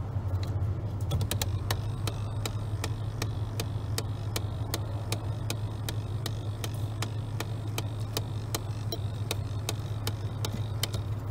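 Rapid, steady clicking comes from the air conditioner motor behind the dashboard of a 2001 Chevrolet Silverado, sharp regular ticks like a fast clock over a low hum, with no talk.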